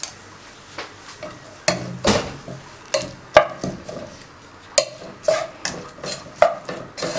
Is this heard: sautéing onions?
yes